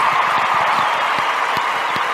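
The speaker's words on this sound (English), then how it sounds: "We'll get you the applause" Audience applause, a brief dense wash of clapping at fairly close range, steady for about two seconds with no voices over it.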